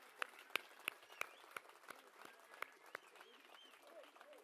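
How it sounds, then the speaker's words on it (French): An audience at a French European election campaign rally in Nice claps and applauds at a distance, a patter of hands with a few sharper claps standing out, fairly faint. "Vous pouvez les applaudir."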